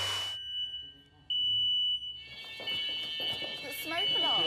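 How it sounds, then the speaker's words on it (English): A shrill electronic smoke alarm tone sounds in short bursts, set off by insecticidal spray in a chateau, joined by people talking and moving close by. "insecticidal spray can set off your smoke alarms"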